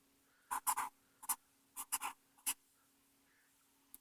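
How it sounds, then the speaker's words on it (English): A pen drawing a circuit diagram on paper, heard as several short, close scratchy strokes in irregular clusters with quiet pauses between them. "see if I can draw this right"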